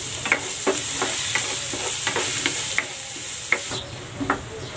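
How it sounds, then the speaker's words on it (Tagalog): Garlic sautéing in a hot pan for a breakfast of sausage and eggs in tomato sauce, a steady sizzle broken by regular scrapes and taps of stirring, close and fairly loud. "Magigisa na ako ng bawang."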